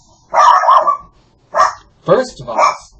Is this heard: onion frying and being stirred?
no